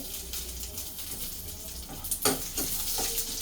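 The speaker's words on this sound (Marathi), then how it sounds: "म्हणजे मसाल्यासाठी बघा खोबरं भाजून घेते" Finely chopped coconut roasting in a pan for masala, a continuous dry sizzle with scraping stirs and a few sharp clatters toward the end.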